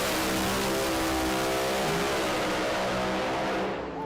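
A 1968 Camaro drag racing at Las Vegas Motor Speedway roars with a sustained, loud engine drone, its pitch shifting slightly as it pulls down the strip.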